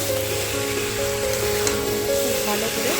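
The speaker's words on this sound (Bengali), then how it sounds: "খুব ভালো করে নাড়িয়ে চাড়িয়ে কষে নিচ্ছি" Goat meat and potatoes fry in a pan with a steady, dense sizzle and occasional stirring scrapes, loud and close throughout.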